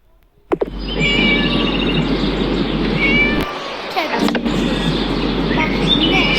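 A cat meows repeatedly in the Scary Teacher horror video game, its drawn-out cries rising and falling over steady in-game ambience, loud and close throughout.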